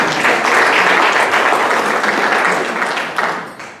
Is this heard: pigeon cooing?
no